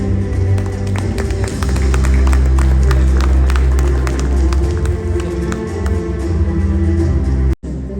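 Applause for award winners at the Build India Infrastructure Awards 2024, a hall crowd clapping steadily and loudly throughout, with a few audible cheers, ending in a sudden cut.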